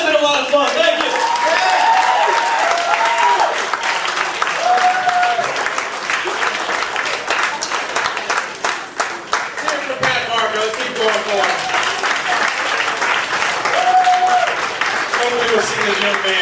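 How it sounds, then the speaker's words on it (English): A comedy club audience breaks into sustained applause after a stand-up set, dense clapping filling the room for the whole stretch, with a few cheers and voices mixed in. "One more round of applause"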